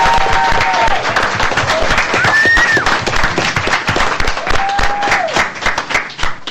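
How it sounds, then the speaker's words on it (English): Audience applause at a school district board meeting, steady loud clapping from a room of people throughout, with a few cheers or whoops rising over it. "So let's give a big round of applause for that."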